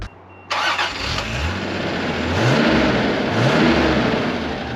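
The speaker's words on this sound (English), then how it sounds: "the first thing you notice is how smooth and refined the inline-six is" A Toyota Supra MK2 inline-six starts and then runs steadily while driving, a smooth, loud engine drone with rising and falling revs throughout.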